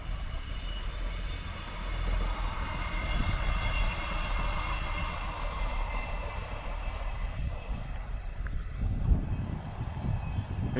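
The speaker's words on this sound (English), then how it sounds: "There's a train." A train rumbles past at a distance near Hexham, a broad steady roar with low rolling noise that swells slightly and holds throughout, no voices.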